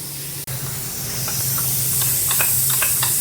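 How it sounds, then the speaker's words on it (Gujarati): Spice paste hitting hot oil in a pan lets out a loud, close, continuous sizzling hiss that starts abruptly and holds steady, with faint crackles over it and no talking. "જો હવે આ તેલ ગરમ થઈ ગયું છે ને તેલમાં આપણે આ જે પેસ્ટ બનાવી હતી નાખી દેવાની છે"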